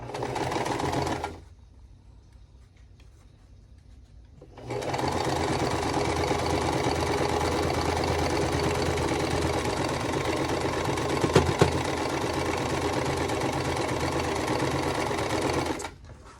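A home sewing machine runs steadily while stitching quilt pieces, with a brief stop and restart near the start and a faint clunk in the mechanism partway through, loud, close and with no talking.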